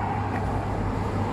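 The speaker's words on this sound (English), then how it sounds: "You can hear the cars going by." A steady low roar of road traffic, with tyre and engine rumble from cars passing at a moderate distance.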